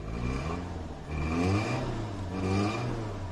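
A 2004 Toyota Vitz with about 197,000 km idles close by, a steady low engine hum with mild rises and falls in pitch and some faint mechanical whir.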